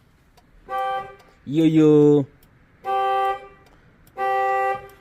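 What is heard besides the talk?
repaired car horn honking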